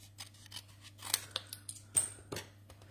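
Scissors cutting a piece of cardstock paper, a handful of quick close snips and crisp slicing strokes at irregular intervals over a low steady hum, with no talking.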